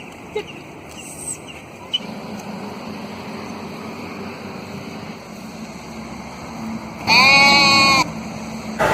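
Sheep bleat in an open field as a shepherd drives the flock along, a loud, clear bleat standing out near the end over steady outdoor background noise.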